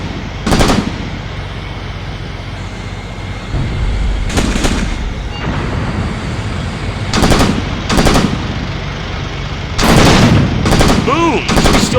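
Gunfire crackles through a battle in the WWII tactics game Graviteam Tactics: Operation Star, with sharp machine-gun bursts and heavy shots striking at irregular intervals over a constant rumbling combat background.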